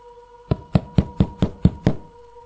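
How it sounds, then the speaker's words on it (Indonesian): Six sharp knocks on a door in quick, even succession, close and distinct against a quiet background with a faint steady hum. "terdengar suara ketukan pintu"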